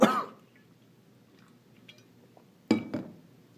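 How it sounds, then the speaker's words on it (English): A teacher coughs during a math lesson: a sharp cough at the start, a quiet pause, then a double cough close to the microphone in a quiet room. "Excuse my cough."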